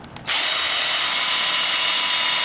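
A power drill boring a 1/8-inch pilot hole into a wooden frame: a brief handling click, then the motor spins up and holds a loud, steady high whine to the end.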